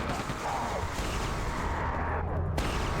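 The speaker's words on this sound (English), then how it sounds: "that massive fucking cannon that's just kind of cannoning" A massive cannon fires in Quake II, a dense, roaring barrage of blasts that fills the scene loudly and steadily with no clear break.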